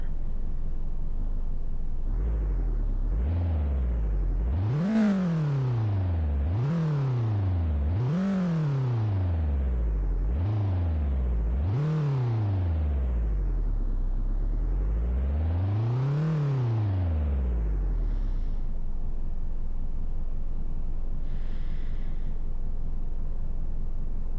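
A car engine in a VRChat virtual world revs up and down repeatedly in rising and falling sweeps, several quick revs then one long climb and drop, with a steady low hum beneath.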